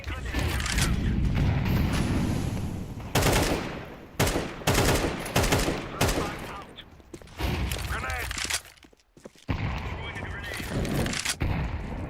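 Rapid gunfire from a Counter-Strike match, with bursts of shots and rattling weapon reports running under a steady stream of talk.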